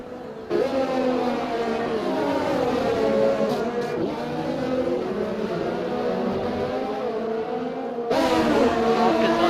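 F1 2020 race cars scream past during a DRS overtake in the slipstream, side by side. High-revving engines whine loudly throughout, with pitch sweeping up and down through the gear changes.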